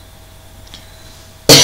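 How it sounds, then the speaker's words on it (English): After quiet room tone, a single sudden, loud cough bursts out close to the microphone right at the end. "sorry, I have to cough."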